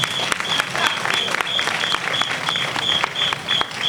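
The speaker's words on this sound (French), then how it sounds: "Applaudissez-le." A crowd applauds a lawyer at a gathering celebrating freed detainees in Benin, steady dense clapping with a repeating high electronic beep and faint voices underneath.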